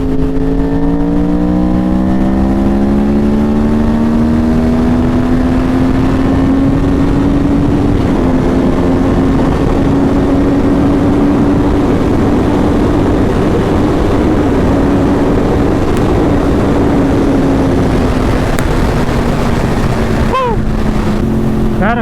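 A Yamaha R1 motorcycle with a crossplane inline-four engine revs loudly and steadily, pitch rising gently then easing off over a sustained run, with a brief sharp chirp near the end.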